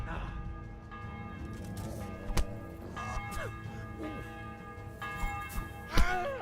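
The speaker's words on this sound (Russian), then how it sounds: "А то, блин, колокола звонит, я не понимаю." Church bells ring in the medieval game Kingdom Come: Deliverance, with several struck bell tones sounding over game ambience and a voice talking through it.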